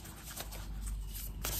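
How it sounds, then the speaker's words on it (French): Starseed Oracle cards being shuffled and drawn, soft close riffling and sliding of the cards, continuous and quiet, with a brief louder flick near the end. "on va tirer une carte du Starseed Oracle pour vous"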